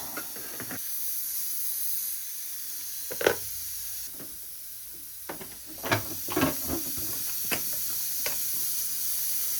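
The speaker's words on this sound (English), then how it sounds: "It's steam, but you're not gonna burn off it." Bursts of steam hissing from a Polti Vaporetto 2400 steam cleaner spurt in irregular puffs over a constant high hiss, close by and fairly loud.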